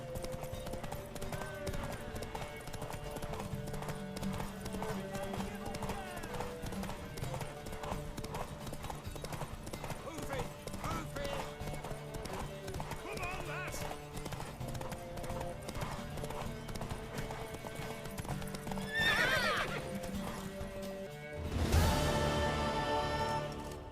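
Horse hooves clip-clop steadily in The Witcher 3 video game, near and rhythmic through the clip under game music, with a brief neigh toward the end followed by a louder rustling burst.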